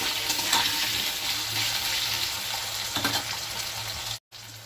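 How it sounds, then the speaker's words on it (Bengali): Cumin seeds, bay leaf and dried chili crackle and sizzle in hot oil as a tempering. The frying hiss stays steady and close, then cuts out briefly near the end. "জিরে তেজপাতা শুকনো লঙ্কা আমি ফোড়ন দিয়ে দিয়েছি"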